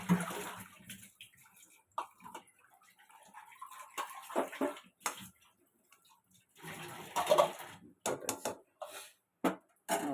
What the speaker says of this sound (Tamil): மீன் குழம்புல மீன் எடுத்து போட்டுடலாம்.